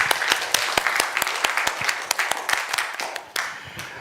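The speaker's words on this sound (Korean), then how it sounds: "하나님께 영광의 박수 올립니다." A church congregation claps together at a Lunar New Year Sunday worship service, a dense, steady run of sharp hand claps at moderate loudness with no talking over it.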